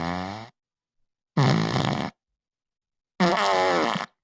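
Three cartoonish fart sound effects, each a buzzy, wobbling blast of about half a second to a second, separated by silent gaps, loud and alone.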